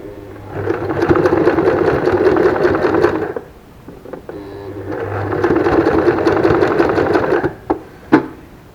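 Sewing machine stitching a fabric face mask with lining and elastic, running in two steady bursts of rapid mechanical whirring, close and loud, separated by a short pause and ending in a few brief clicks.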